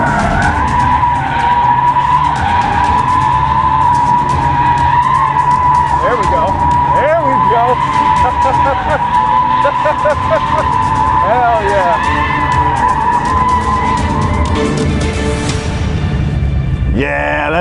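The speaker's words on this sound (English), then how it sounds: "I want to drift this pole one more time." A Dodge Charger Daytona EV drifting around a pole, its tires screeching in a long continuous skid with a whine that wavers in pitch, loud and close, before the squeal breaks off near the end, with people talking over it.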